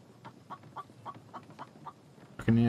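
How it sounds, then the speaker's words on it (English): A chicken clucks in a steady, repeated rhythm of short calls at close range, followed by a louder, sharper squawk at the end. "Chicken."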